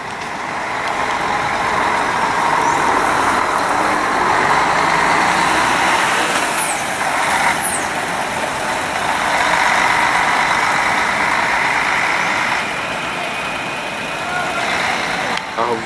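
A Expresso do Sul coach pulls out of the Tietê bus terminal in São Paulo at the start of a São Paulo–Rio de Janeiro trip, its engine a steady loud rumble amid the busy terminal hubbub and distant voices.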